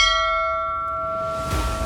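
A single struck bell at Pashupatinath temple in Nepal rings with a sustained, slowly decaying tone, followed by a softer knock or second strike near the end.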